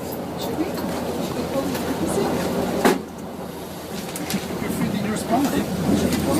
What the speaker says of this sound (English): Look, this is a busy train.